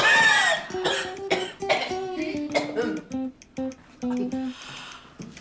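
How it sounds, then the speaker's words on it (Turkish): A woman coughs in a run of dry, hacking bursts, several sharp coughs in quick succession with brief pauses between, close and fairly loud, over faint background music. "Ne bu öksürük kuru kuru?"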